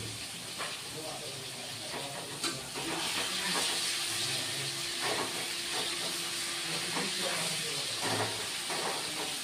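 Katla fish pieces fry in hot oil, making a continuous hissing sizzle with scattered crackles and pops at moderate volume.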